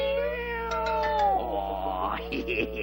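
Several cartoon kittens meow in a Tom and Jerry scene: high, wavering cries overlap one after another, close up and clear, over faint background music.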